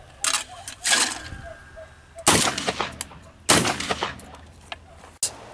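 Shooting outdoors with a .44 Magnum at clay targets: several loud, booming shots spaced irregularly over a few seconds, each with a ringing tail, plus a smaller sharp click near the end.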